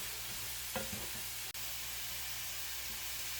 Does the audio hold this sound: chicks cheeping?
no